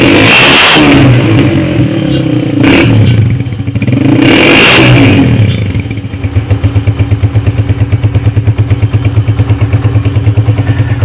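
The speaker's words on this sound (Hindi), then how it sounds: "अब इसी तरीके से साइलेंसर का साउंड भी सुनेंगे।" A 2014 Honda CG 125 motorcycle, restored and modified, revs loudly through its exhaust silencer in two bursts, then settles into a steady, close, rhythmic idle thump with no talk.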